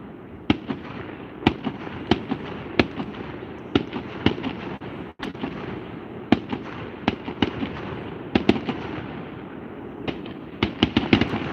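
Canada Day fireworks bursting over Friday Harbor, a long run of sharp, distant-sounding bangs at irregular intervals, some in quick clusters, with faint crowd noise between them.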